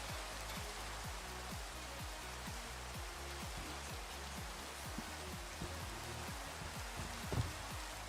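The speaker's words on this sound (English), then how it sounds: "It's also raining, and I don't want it to rain." Rain falls steadily in a video game as a soft, continuous hiss of drops at low volume, with a faint repeating low pulse beneath it and no talk.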